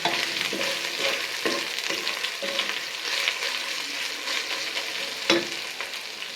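Garlic paste sizzling in hot oil in a pan while being stirred, a steady frying hiss broken by repeated scraping strokes of the spoon and one sharper knock near the end, close and alone.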